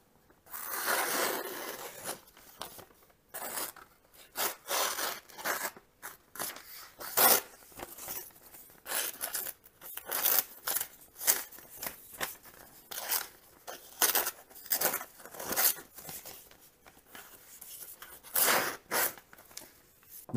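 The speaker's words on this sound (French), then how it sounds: "on va faire un test de coupe pour voir ce que ça donne" A freshly sharpened BPS Savage bushcraft knife makes a cutting test, producing a long series of crisp crunching, scraping slices in an irregular rhythm, close and fairly loud with short pauses between cuts.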